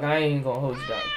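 A cat meows in a horror video game, a short drawn-out call heard beneath someone talking over it.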